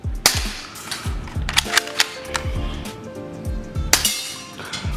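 An airsoft gun firing 0.12 g BBs in a speed test: a series of sharp, snappy shots with metallic clinks, irregularly spaced, some in quick pairs, close and fairly loud against a quiet background.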